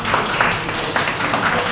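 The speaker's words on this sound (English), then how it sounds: "We can give a big hand clap." A class of boys applauds in a lecture room, a loud, steady round of many hands clapping at once, filling the space with no voices over it.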